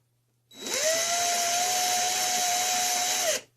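A power tool whines at a steady high pitch for about three seconds while unscrewing during the winding of a Keshe Magrav coil, starting and stopping abruptly, close and loud, with no talk.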